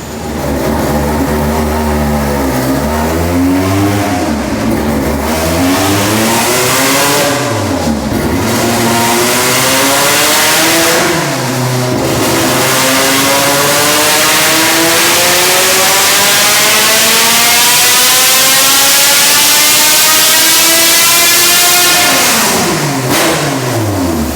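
A 400 hp naturally aspirated Honda Civic race engine, freshly rebuilt, screams through repeated loud, close full-throttle pulls on a chassis dyno, pitch climbing steeply with each gear before dropping back, ending in a long sustained wail.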